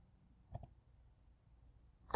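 Computer mouse clicking quietly in a room while making a mind map on a classroom software tool, a quick double click followed by another single click after a pause, faint background hiss.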